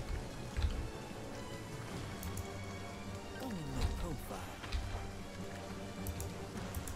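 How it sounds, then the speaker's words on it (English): Rain falling in the video game Jagged Alliance 3, a steady, moderately faint patter running throughout, with a few louder thuds and a gliding in-game sound mixed in. "the rain is really oppressive"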